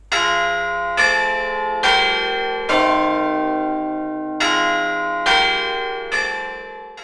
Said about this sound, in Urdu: اس کلاک میں ایک مشہور گھنٹی بجتی ہے جسے بگ بین کے نام سے جانا جاتا ہے۔